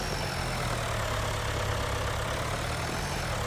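A tractor engine idles in Farming Simulator 19, a steady low rumbling drone with constant hiss, moderately loud and unchanging throughout, with no talking.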